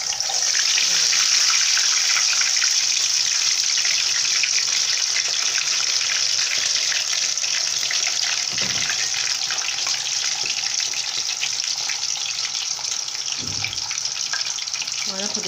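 Tilapia fish frying in hot oil, a steady loud sizzle and crackle that holds throughout, with a faint voice now and then.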